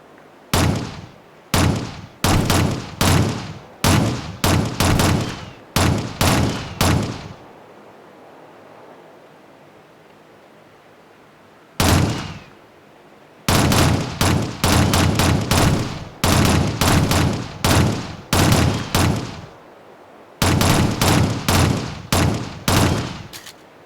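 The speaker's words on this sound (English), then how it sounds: "This time fire in short bursts." Short bursts of automatic gunfire ring out at a training range in the 2007 Shadowrun video game, sharp, loud and close, about a dozen quick volleys with a brief lull partway through.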